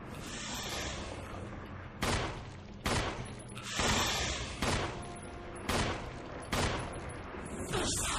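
Heavy gunfire in the Resident Evil HD survival-horror game, with loud repeated shots roughly every second, each a sharp broadband blast trailing into a rumbling tail over continuous background noise.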